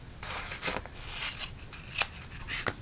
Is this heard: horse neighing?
no